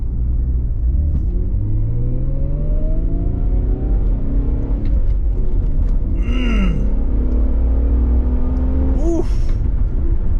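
A 1998 Mitsubishi Legnum VR-4 Type S wagon accelerating hard, its engine note rising loudly through the revs with gear changes between pulls, heard from inside the cabin with a brief exclamation.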